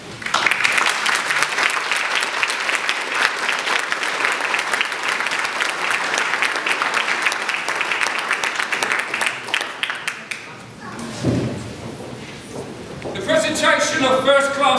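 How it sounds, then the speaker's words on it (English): A loud crowd claps at a cadet certificate presentation evening at Woolwich Barracks, sustained applause for about ten seconds that then fades as voices and a brief musical or tonal passage take over near the end. "When I invite people up, I want to hear a nice loud clap."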